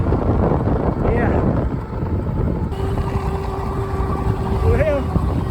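Heavy wind buffeting the microphone while riding an e-bike on a real windy day, a constant dense roar with faint tonal whine from the motor underneath.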